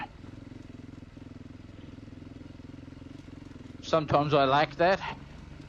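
A Beta RR 430 motorcycle ridden on a loose downhill trail gives a steady, low, pulsing engine drone, and a voice speaks over it near the end.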